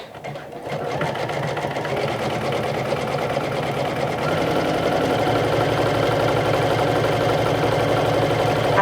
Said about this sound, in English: let's do the zigzag stitch on cork too